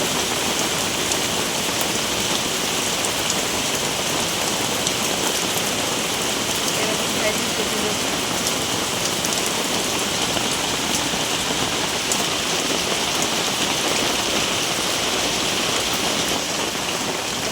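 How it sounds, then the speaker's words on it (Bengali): Heavy rain falls steadily outdoors as an unbroken, dense hiss of drops that stays even and loud throughout, with no break or other sound rising above it. "আমাদের এদিকে খুব বৃষ্টি হচ্ছে।"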